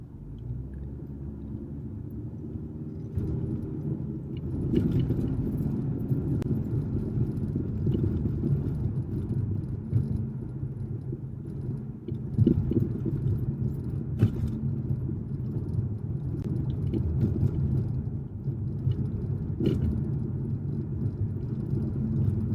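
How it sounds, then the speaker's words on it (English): Cars pass on a Los Angeles street, heard from inside a waiting vehicle as a steady low engine rumble with swelling whooshes of traffic going by and occasional light rattles. "I'm going to let these cars pass me so I can take my time."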